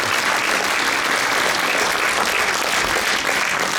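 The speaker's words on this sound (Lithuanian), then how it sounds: "Plojimai šiam puikiam kolektyvui." A concert audience claps for a school children's choir at a February 16 celebration, producing dense, loud, continuous applause that holds steady throughout, with no one speaking.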